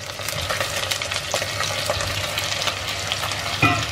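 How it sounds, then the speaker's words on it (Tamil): Brinjal, drumstick and potato pieces fry in hot oil for kara kulambu, a steady close sizzle with light stirring scrapes throughout and a sharper clink near the end. "நல்லா காய் கருத்துறோம்"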